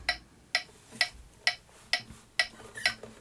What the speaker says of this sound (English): the metronome is at 130 right now